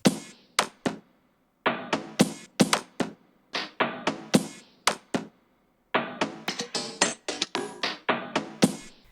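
A Cymatics percussion loop cut into chopped sections plays on its own, with bursts of crisp tapping and knocking hits separated by short silent gaps, close and dry.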